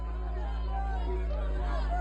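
An angry crowd shouts and jeers at Keir Starmer as police rush him into a car under flashing blue lights. Many voices blend into a steady, close, rowdy hubbub with no single voice standing out.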